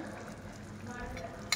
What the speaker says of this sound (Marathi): उकळी आली या ग्रेव्हीला.